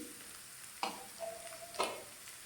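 Carrots frying in a pan over a medium flame, a soft continuous sizzle broken by two sharp scraping stirs about a second apart, close and fairly quiet.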